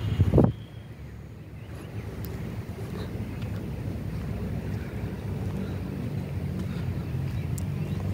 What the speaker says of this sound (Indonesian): Perahu rakit motor wisata Danau Lido